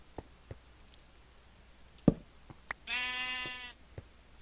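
A sheep bleats once in a short, loud wavering call in the Minecraft video game, with scattered clicks and knocks around it and no talking.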